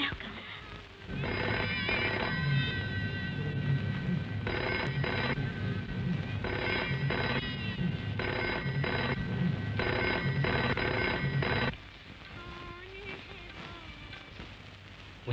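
A telephone bell rings in repeated, evenly spaced bursts with short gaps between them, close and clear, in a scene from a Bollywood action film, then stops abruptly.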